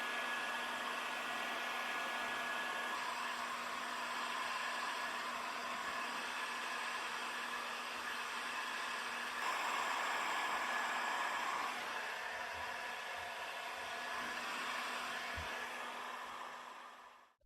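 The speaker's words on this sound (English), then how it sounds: "I'll first warm the barrel with a heat gun, so it doesn't prematurely solidify the Cerosafe." A heat gun warming the barrel of a Gewehr 88 rifle gives a steady, even blowing hiss that runs unbroken for most of the clip at low level, then cuts off at the end.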